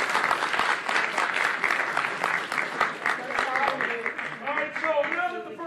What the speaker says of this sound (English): Can we get a huge round of applause for our fursuits?